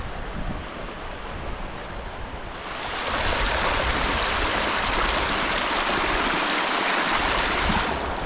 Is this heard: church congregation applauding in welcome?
no